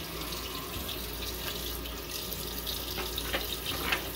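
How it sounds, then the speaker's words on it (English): Tap water running into a sink during a wet shave, a continuous rushing stream with a few brief splashes and clinks near the end, heard on its own. "Sorry about the water, guys."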